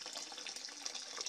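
Water drains steadily out of a steam boiler, a faint continuous hiss and trickle that flows without pause, with no voices over it.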